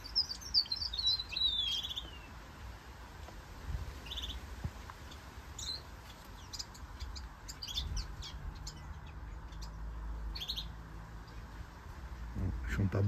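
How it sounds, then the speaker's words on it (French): Songbirds chirp and trill in a garden in short, scattered bursts, with a quick run of notes at the start and sparser calls later, moderately close over faint background noise. "vous allez voir le chant des oiseaux un petit peu."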